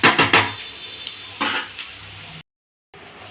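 Onions with salt frying in a pan, several quick metal scrapes and clinks of stirring over a soft sizzle, close by, then a brief pause of silence before the sizzle resumes.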